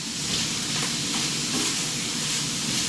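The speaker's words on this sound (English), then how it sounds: "So this kale is gonna actually go in right now. Give it a stir." Kale sizzles in a hot pan with chickpeas and garlic, a steady dense frying hiss with faint stirring, close and continuous.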